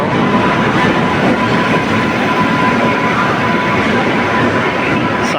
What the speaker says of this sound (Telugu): ఈ వచ్చే ట్రైన్ నేను వెళ్ళబోయేది గోరఖ్పూర్ టు కొచ్వేల్